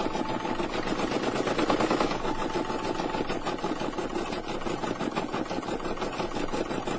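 An embroidery machine stitching a small lamb key fob design, a fast, steady, close mechanical rattle of the needle running continuously without pause.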